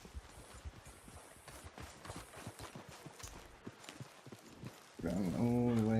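Horse hooves clip-clop in Red Dead Redemption 2, a rhythmic run of hoof strikes over several seconds, then a voice and tonal sound take over near the end.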